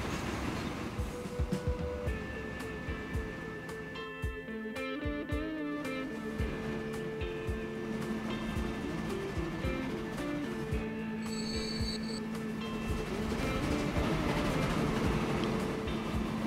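Cargo trains on a Panama Canal rail line in Transport Fever: a continuous rumbling rail drone with clicking wheels and a brief bell-like ring, moderately loud, with no talk.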